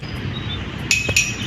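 Two bright, ringing clinks of a spoon tapping a glass, close and clear over a low background hum.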